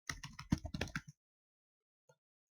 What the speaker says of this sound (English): You might notice me typing things that don't look like commands